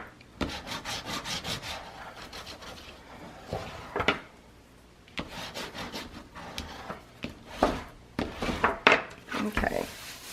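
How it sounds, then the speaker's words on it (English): Paper is burnished down by hand, heard as close, rhythmic bursts of dry rubbing strokes in quick runs separated by short pauses, with some talking underneath. "I'm going to burnish it down really good"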